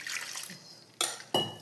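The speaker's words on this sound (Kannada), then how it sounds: "ಎಷ್ಟು ಬೇಕೋ ಅಷ್ಟು ನೀರು ಹಾಕಬೇಕು" Water splashes into a mixer-grinder jar in two short bursts, close and fairly loud, the second pour following the first after a brief pause, with rinsing water in a kitchen while a radish bajji batter is prepared.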